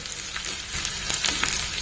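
Soaked masoor dal, poured in with its soaking water, hits a hot tempering for oats khichdi and sets off a brief burst of crackling and sizzling, close and moderately loud, with no speech.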